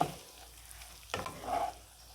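Rice stirred and fried in a pan over medium flame for egg pulao, a soft close sizzle with a sharp spatula scrape midway and gentle stirring swirls.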